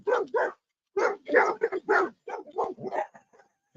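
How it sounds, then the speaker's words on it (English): Several dogs bark in short loud bursts, about eight or nine yaps and barks tumbling over one another as if squabbling, close by and with no talk over them. "Oh, I can hear that doggy barking."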